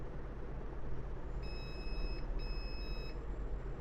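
Two short, high electronic beeps from a Samsung A30 phone under repair sound in quick succession over a steady low background hum.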